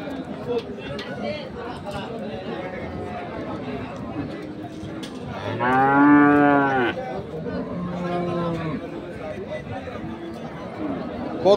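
Holstein Friesian cattle at a cattle market, with one loud, drawn-out moo near the middle and a shorter, lower one after it, set against crowd chatter and people talking nearby.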